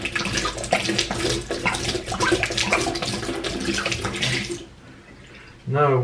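Running water rinses loose bits of dried cork out of the neck of a Scotch whisky bottle, a steady splashing gush for several seconds that cuts off, followed by a brief tonal rise near the end.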